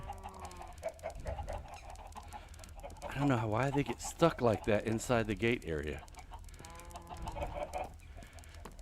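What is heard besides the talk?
chickens clucking in Minecraft video game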